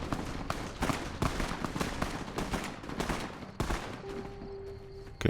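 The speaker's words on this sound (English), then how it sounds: "I hear shooting" Rapid gunfire crackles through a firefight between factions in Fallout New Vegas: dense overlapping shots and bursts at steady loudness, then thinning toward the end as a sustained tone emerges.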